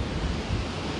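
Ocean waves washing onto shore at Puerto de la Cruz, Tenerife, with wind buffeting the microphone, a continuous loud rushing noise with no voices.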